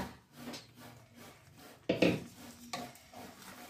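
Chicken is stirred into a pot for curry, giving a soft rubbing and scraping with one louder clatter of the spoon against the pot partway through. The sound is close and fairly quiet, and no one speaks.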